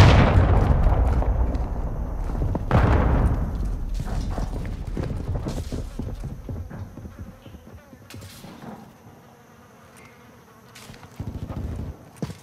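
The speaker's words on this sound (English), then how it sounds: "Hostile cruise missile incoming." A hostile cruise missile streaks in and detonates during a Call of Duty: Modern Warfare II multiplayer match, with a loud opening blast followed by a second heavy impact, then rumbling debris and scattered battlefield noise that fades before a late burst.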